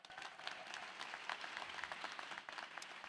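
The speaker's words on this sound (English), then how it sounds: "Give them a round of applause." Crowd at a 2025 high school graduation ceremony applauds, a soft, distant patter of many hands clapping with scattered louder claps standing out, continuing evenly throughout.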